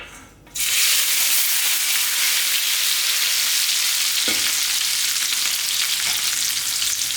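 Potatoes dropped into a roasting tray of hot oil fresh from the oven, a brief thud followed by an immediate loud, steady sizzle that holds close and unbroken, with a couple of faint knocks.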